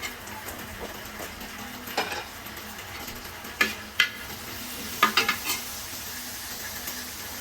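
Green chillies and curry leaves fry in a pan for a beef leg fry: a continuous sizzle broken by a few sharp spatula scrapes and clicks near the middle and later on.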